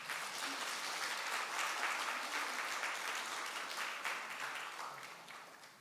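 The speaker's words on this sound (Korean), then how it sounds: "우리 박수 한번 부탁합니다" A church congregation at a Sunday morning service breaks into applause, a full, even patter of many hands that swells, holds and then gradually tapers off.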